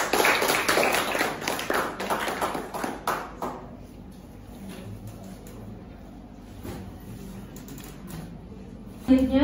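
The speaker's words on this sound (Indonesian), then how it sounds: "Boleh diberi tepuk tangannya dong," Audience applause at a business gathering in Indonesia, a burst of close clapping that fades after a few seconds into a quieter room, with a voice speaking.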